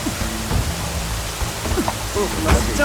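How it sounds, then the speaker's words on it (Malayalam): Heavy rain pours in a Malayalam film scene, a dense and constant hiss filling the whole stretch, with faint muffled sounds underneath. "ഇവിടെ ഭയങ്കര മഴ."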